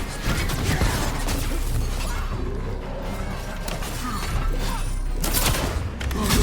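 Loud, chaotic Dragon Age: The Veilguard combat with repeated booming Gatlock cannon blasts, crashing impacts and clattering debris, dense and continuous with bursts throughout.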